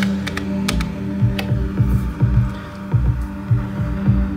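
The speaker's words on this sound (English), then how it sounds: "gives it a nice, warm, kind of fuzzy um, background sounds" A warm, fuzzy synthesizer drone from an Elektron Octatrack, Digitone and OP-1 setup hums steadily, with a soft throbbing pulse repeating about once a second and a few light clicks on top.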